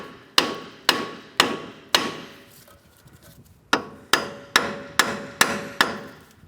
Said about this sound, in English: Just giving it a little tap.